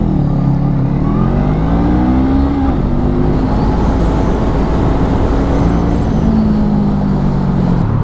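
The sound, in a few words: Honda CMX 500 Rebel motorcycle accelerating on road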